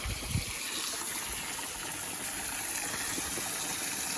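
Water gushes steadily into a garden container being filled, a continuous hissing, splashing flow with a brief thump near the start.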